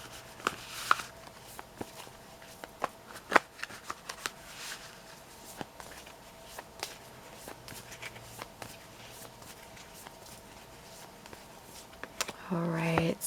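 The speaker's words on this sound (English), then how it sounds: "I always like to give a nice good shuffle" Soft, rapid riffling and tapping of tarot cards being shuffled by hand, scattered clicks close by, with a brief voice near the end.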